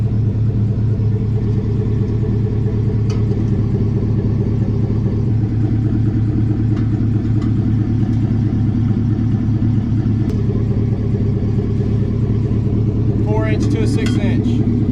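A car exhaust rumbles through a 4-inch exhaust tip at a steady idle with a low, continuous drone, loud and close throughout, with a faint rattle near the end.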